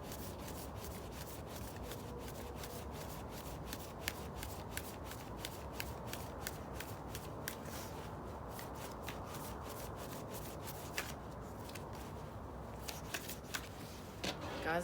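Tarot cards are reshuffled outdoors at night, a soft, close, rapid riffling that repeats in a steady rhythm for the whole stretch.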